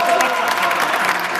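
A crowd claps loudly and continuously at an outdoor 1980s-themed concert, dense applause filling the whole moment without a break.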